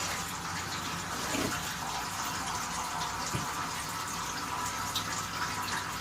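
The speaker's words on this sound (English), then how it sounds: "the oil's all drained out" Oil trickles and splashes in a steady, close-up stream as it drains from a lawn mower engine that sat all winter with regular gas, running continuously and alone with a couple of faint knocks.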